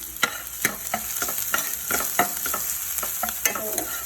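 Small pieces of vegetable fry in a pan with a constant crackling sizzle, punctuated by regular scraping strokes of a spatula stirring them, close and without speech.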